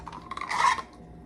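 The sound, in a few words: whisking sour cream potato salad dressing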